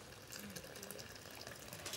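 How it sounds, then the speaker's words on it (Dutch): Boiling water poured from a kettle onto freshly ground coffee beans, a steady close-up liquid gush and splash that runs continuously with no pauses. "Dan giet je daar kokend water in"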